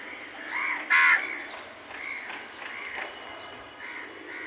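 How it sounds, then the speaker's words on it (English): Crows being fed, cawing outdoors: a couple of harsh caws near the start, one loud and close, followed by fainter scattered calls from other birds around. "So I gave this food specially for the crows, okay?"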